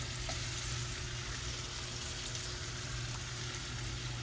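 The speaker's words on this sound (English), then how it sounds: "Put butter in the pan, and next put the manchego cheese in the pan." Butter and manchego cheese frying in a pan, a faint, steady sizzle that continues throughout with no talk.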